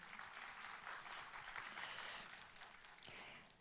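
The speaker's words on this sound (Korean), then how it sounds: "의장님께도 여러분 다시 한번 박수 보내주십시오." Audience applause fills a bio-industry expo ceremony hall, a steady dense clapping from many hands sustained for several seconds with no talk over it.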